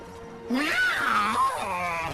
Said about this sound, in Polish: To tylko kot